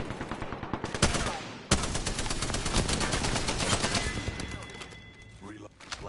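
Rapid bursts of hip-fire gunshots ring out in a battle royale video game, dense and loud, with sharp cracks around one and two seconds and near-continuous fire throughout, ending in a few isolated shots.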